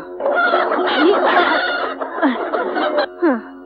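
A large rooster clucks and chortles repeatedly at close range, with short rising calls between the clucks.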